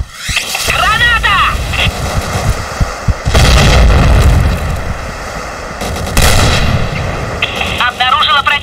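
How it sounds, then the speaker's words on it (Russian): Several heavy grenade explosions boom at intervals amid rattling gunfire and video game action, loud and close throughout. "Граната!"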